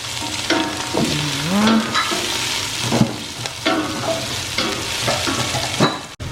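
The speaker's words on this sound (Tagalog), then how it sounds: "Okay, lagay na natin yung bawang at saka sibuyas." Garlic and onion frying together in a pan, a continuous sizzle with irregular stirring scrapes and clatter, a few tonal squeaks in between, and no voices.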